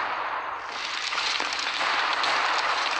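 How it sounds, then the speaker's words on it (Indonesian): A rapid, crackling string of small pops and bangs, dense and sustained like firecrackers going off, loud and continuous for a few seconds, from destructive firecrackers in the video game City Smash. "Ini alah mercon."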